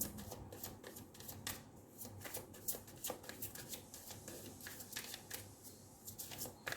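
Tarot cards are shuffled and drawn close by, with quick, soft, repeated riffling flutters and light card slaps in a continuous rustling run.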